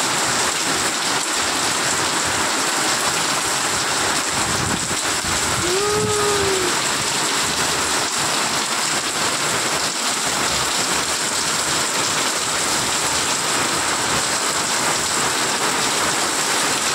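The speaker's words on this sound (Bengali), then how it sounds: "দেখো হঠাৎ করে বৃষ্টি চলে এলো" Steady heavy rain pours down in a sudden storm with wind, a dense continuous hiss that fills the whole stretch, with no voices.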